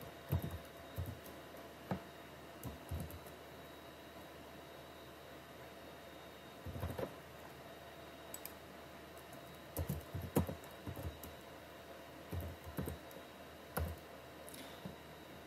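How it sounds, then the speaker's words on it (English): Quiet, scattered bursts of keystrokes on a computer keyboard as a command is entered for a Dell N1500 series switch firmware upgrade, with irregular clusters of clicks over a steady low hum. "once you type this command and press enter"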